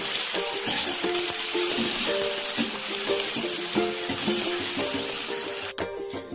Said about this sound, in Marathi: तर मी ना लसूण, कांदा, मिरची सर्व काही आहे ना शेंगदाणे टाकून आता मस्त फ्राय करून घेतो